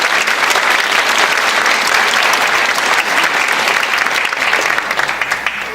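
An audience applauds staff at the opening of a Jewish Refugees in Shanghai exhibit, a dense, steady wash of clapping from many hands that holds loud throughout and thins slightly near the end.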